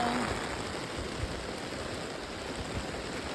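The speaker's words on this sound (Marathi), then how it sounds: "माझ्या छत्रीतून पाणी पडायला लागलं आता." Heavy monsoon rain pours onto an umbrella in the open fields of a Konkan village, a dense, continuous hiss of drops close overhead.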